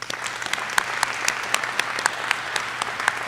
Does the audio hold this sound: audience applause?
yes